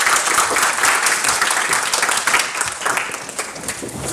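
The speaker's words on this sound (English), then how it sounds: "Please give a round of applause for Verapat." Audience applause in a lecture hall as a speaker is introduced at an academic talk in Bangkok, a dense, loud wash of many hands clapping that holds steady and then begins to taper off.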